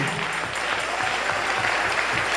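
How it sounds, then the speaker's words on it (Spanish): Church congregation applauding during a sermon on the millennial kingdom, a steady broadband wash of many hands clapping that fills the whole moment without a voice on top. "Denle ese aplauso al Rey."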